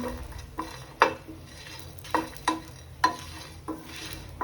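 Coriander seeds and curry leaves crackle in a hot pan for pepper rasam, with a few sharp pops and stirring scrapes over a faint steady sizzle.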